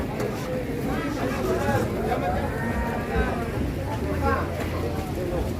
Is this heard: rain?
no